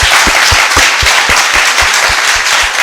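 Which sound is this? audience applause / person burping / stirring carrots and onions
audience applause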